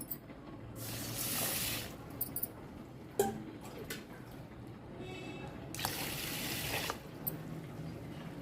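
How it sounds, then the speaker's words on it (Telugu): Rice and millets are swished and rinsed in water in a bowl, making close splashing and sloshing in several bursts with short pauses between. "ఇలా ఒక రెండు సార్లు కడగాలండి"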